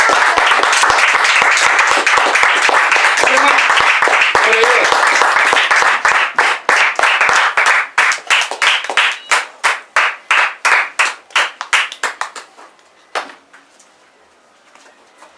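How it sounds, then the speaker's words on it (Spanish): A church congregation applauds during a Spanish-language worship service: dense, loud clapping for several seconds that thins into scattered individual claps and fades out, with a voice speaking over it. "Aplausos para el Señor Jesucristo"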